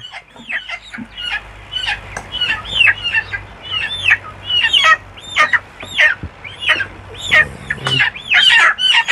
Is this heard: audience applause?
no